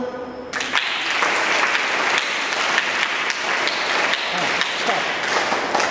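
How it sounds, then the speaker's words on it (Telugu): A group of scout students clap together in a dense, loud, sustained burst of applause that starts abruptly after a brief voice and runs on steadily. "మీరు క్లాప్స్ ఎలా కొడతారు?"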